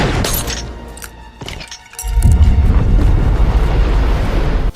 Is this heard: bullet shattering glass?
yes